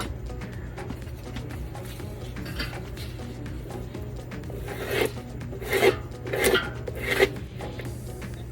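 Scraper dragged across acrylic paint on a wall plate, a few short rough scraping strokes that come in quick bursts over a low steady background hum.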